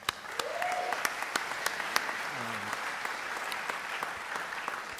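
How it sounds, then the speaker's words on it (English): An audience applauds bassists Jonah Bennett and Michael at a UNL Jazz Orchestra and Big Band concert, a steady wash of clapping with a few sharper claps standing out and a brief tone drifting over it. "I'm going to give them a round of applause because they're great"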